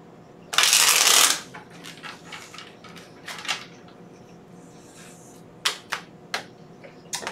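A deck of tarot cards being shuffled up close, with a loud riffle burst followed by scattered taps and soft slaps as the cards are squared and laid down.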